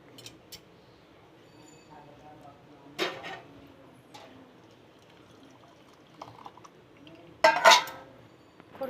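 Pots and cups clink now and then while tea is made in a home kitchen, faint scattered taps and a couple of sharper metallic knocks over a quiet room.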